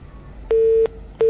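Telephone line tones from a dropped call-in to a radio show, a steady pure beeping tone in repeated pulses, loud and clean with nothing else heard.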